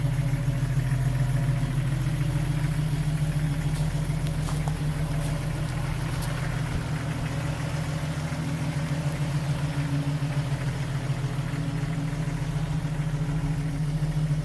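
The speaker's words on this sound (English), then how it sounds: "Exhaust sounds good, no leaks." A 1995 Jeep Wrangler idles steadily with a low, even exhaust rumble heard from the rear, constant and moderately quiet, with no voices.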